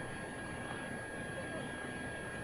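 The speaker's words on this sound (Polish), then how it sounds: "można powiedzieć, że silniki chyba uruchomione" Twin-engine Eurocopter EC135 helicopter in the FlightGear simulator, engines running after a faulty start with the second engine over-revving, giving a steady, even broadband whine and hum that holds throughout without change.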